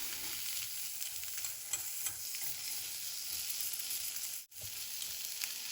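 Salmon fries in butter in a hot pan, a steady close crackling sizzle with small scrapes and stirs as the pieces are moved around, with one brief dropout near the end.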